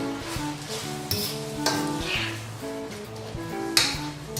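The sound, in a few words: mixing parsley into shrimp pasta in the pan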